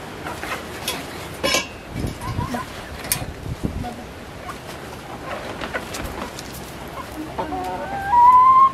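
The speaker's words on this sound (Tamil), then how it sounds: "சாரா கோழிகள் எல்லாம் நிற்குது." Chickens cluck and squawk around an organic farm garden in Jaffna, with scattered calls near and far and a louder crow-like call at the end, while a person talks nearby.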